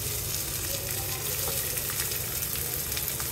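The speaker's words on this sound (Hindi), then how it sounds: "लाल मिर्च कड़ी लीव्स अब डाल देते हैं।" Red chili and curry leaves crackling and sizzling in hot oil in a home kitchen while cooking, a steady dense hiss of frying throughout, close and even in level, with no talk.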